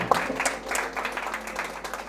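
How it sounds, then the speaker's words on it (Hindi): Audience applause at a Hindi storytelling event on the Bishnoi community and the environment, heard as fairly soft, steady clapping from a crowd throughout, with faint voices mixed in. "तो ये तालियां"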